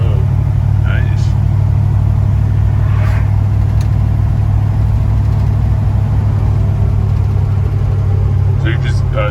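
A 1954 Chevrolet 3100 pickup truck, back on the road after years off it, is out on a final test drive. Its engine gives a loud, continuous low rumble from close by, holding steady throughout.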